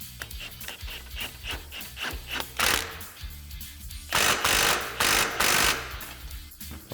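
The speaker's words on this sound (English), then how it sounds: "we're going to go ahead and fully tighten the shock, the A-arm pinch bolt, and the sway bar link bolt" Bolts on a Polaris RZR Pro R suspension are tightened: the shock, A-arm pinch bolt and sway bar link bolt. Close-up metallic ratcheting comes in quick repeated clicks, broken by bursts of louder rasping wrench strokes.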